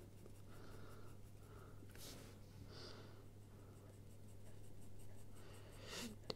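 An HB pencil shading on paper, building up dark tone with steady scratchy strokes, close and quiet over a constant low hum.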